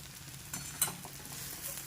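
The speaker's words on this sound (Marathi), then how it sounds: "आणि छान मिक्स करा." Mixed vegetable Bhogi curry made without onion or garlic, with cluster beans and beans, stirred in a pan: a quiet, steady sizzle with soft scraping strokes and a couple of brief louder clinks, no talking.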